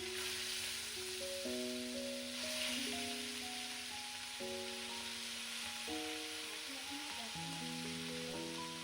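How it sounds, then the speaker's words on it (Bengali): Katla fish frying in hot mustard oil in a pan gives a steady, quiet sizzle and crackle, with faint background music over it. "তারপর মাছগুলো আমি একে একে ভাজার জন্য দিয়ে দিচ্ছি।"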